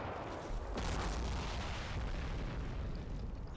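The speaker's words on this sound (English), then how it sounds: "Some more arty coming in" Artillery shells land in the Combat Mission Black Sea war game, giving a dense rumble of distant booms and crackling blasts that overlap with no clear gaps.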